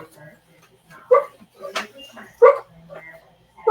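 A pet dog lets out several short, sharp barks and yips at irregular intervals, mixed in with a person talking nearby.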